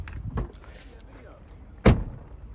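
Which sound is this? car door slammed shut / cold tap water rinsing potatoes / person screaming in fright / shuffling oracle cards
car door slammed shut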